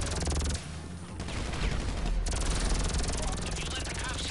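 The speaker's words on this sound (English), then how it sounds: "Got the chopper, getting shot." Gunfire hits a helicopter in the video game GTA 5, a loud continuous fusillade of rapid shots with the chopper's rotor beneath and a voice talking over it.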